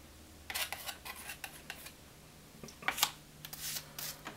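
Palette knife tip scraping and dabbing paint on canvas while painting a red flower on a black background, heard as soft, intermittent close scratches and scrapes in short bursts with pauses, quiet and without talk.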